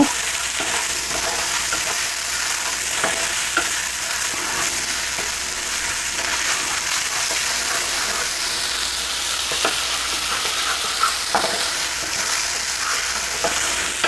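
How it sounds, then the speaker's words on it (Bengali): Green chili paste cooks with spices and onion in hot oil for a hilsa fish curry, giving a loud, continuous sizzle with faint stirring knocks throughout, and no voices. "কাঁচামরিচ বাটা দিয়ে এটাকেও আমি এই মশলার সঙ্গে এই পেঁয়াজের সঙ্গে মিশিয়ে একটু ভেজে নেব"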